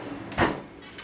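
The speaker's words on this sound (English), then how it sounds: "we made it all drawers that pull all the way out" A single full-extension kitchen cabinet drawer slides open with a short, close rolling rumble and a soft thump, followed by a faint knock.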